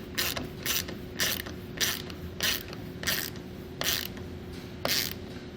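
A clamp on a TruXedo TruXport soft roll-up tonneau cover on a 2019 Chevrolet truck bed is tightened down with a close ratcheting tool, producing about nine rhythmic bursts of clicking with steady pauses between them.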